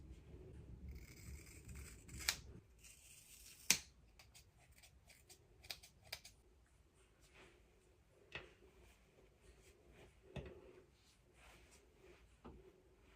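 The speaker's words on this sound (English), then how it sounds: "I'm just gonna cut right close to these ties, and then I'll just thin everything out." Hair being trimmed close to the ties and thinned out with scissors: a run of crisp snips near the start, then sparse, isolated cuts spread across the rest, close and fairly quiet.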